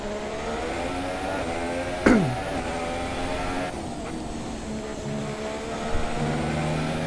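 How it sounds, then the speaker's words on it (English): Formula 1 cars in the F1 2017 video game during opening practice, a steady high engine drone with a sharp downshift or brief burst around the midpoint, continuous and fairly loud with no talk. "Räikkönen is all over Magnussen. He's looking for a way around him"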